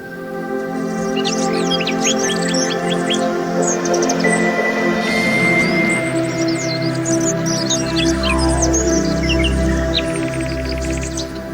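Wild birds chirp and tweet continuously in a countryside setting, many bright, quick calls overlapping above a steady, sustained tonal background that stays at an even, fairly loud level.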